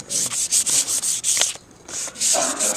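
Fine sandpaper rubbing around the tip of a wooden cheese knife in quick repeated strokes, close and clear with a short pause midway.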